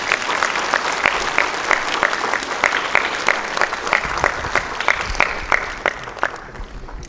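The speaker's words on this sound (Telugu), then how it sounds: "మరొక్కసారి మీ చప్పట్లు వినిపించండి" Audience applause at a Kriya Yoga foundation gathering honouring a guest, steady clapping from a crowd filling the room for about seven seconds, with a few louder claps standing out near the front before it thins slightly at the end.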